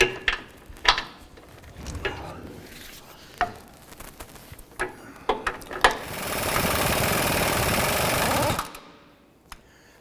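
Mechanical ratcheting and clicking from an 18mm socket working the two large inner bumper bolts on a 2007-17 Jeep Wrangler front bumper, with scattered sharp clicks followed by a steady whirring stretch that stops abruptly near the end.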